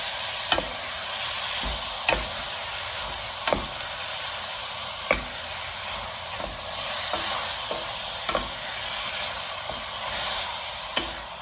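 Lamb leg stir-fried in sesame oil with dark soy sauce in a pot, a steady close sizzle broken by sharp periodic scrapes of a spatula against the pan, with no voices.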